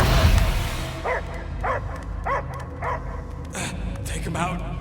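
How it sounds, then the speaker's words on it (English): Dog barks in the Guardians of the Galaxy video game, a steady run of about six evenly spaced woofs over a low hum and game ambience, with dialogue at the start. "I hear only barking."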